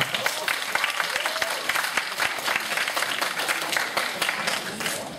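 University students in a sociology class applaud together, a burst of many hands clapping in a lecture room, fairly loud and sustained, fading slightly toward the end.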